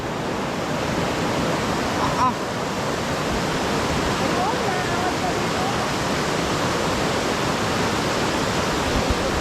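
Loud, broad roar of a flooded river's rushing water churns continuously, close by, with faint voices occasionally audible beneath it.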